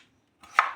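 A knife slices through a bottle gourd on a board: one short, close cut with a crisp, moist crunch after a moment of silence.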